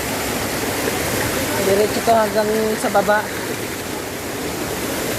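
River water rushing steadily over slippery rocks along a jungle trail toward a hidden waterfall, a loud, close, unbroken wash, with someone briefly speaking over it.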